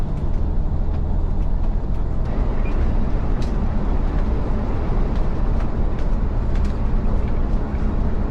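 A heavy 2018 Tiffin Allegro Bus 40SP diesel motorhome pushes hard down the road, a loud, steady rumble of engine and road noise filling the cabin throughout, with faint ticks and no talk.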